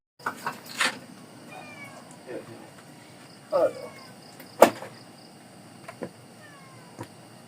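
Several stray cats cared for by a soldier meow in short, scattered calls at varying distances, some faint and one sharp and loud, over a quiet background with light speech.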